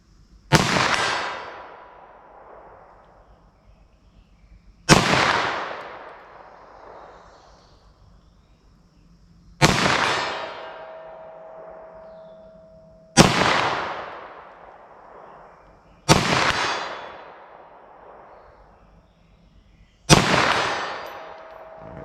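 Six 9mm +P pistol shots ring out at a steel target 75 yards downrange, each a sharp, loud report with a long decaying echo, spaced about four to five seconds apart with no talking.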